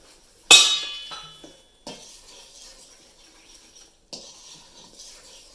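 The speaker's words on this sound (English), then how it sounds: "I like to use a fork when I mix doughs at first" A fork clinks and scrapes against a bowl while mixing bread dough for cinnamon twists, one sharp strike followed by softer scraping strokes and a few later bursts, close and fairly quiet.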